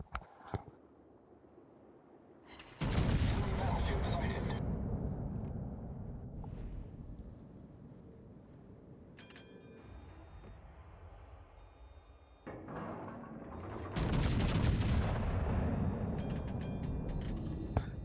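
Main gun salvos boom from a Slava warship in World of Warships, with two heavy, rumbling blasts several seconds apart over a low ambient drone.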